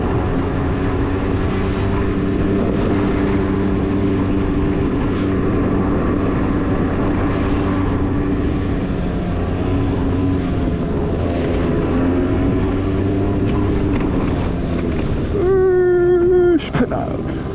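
A TGB snowmobile engine runs continuously with a loud, steady droning hum, a voice talking over it near the end.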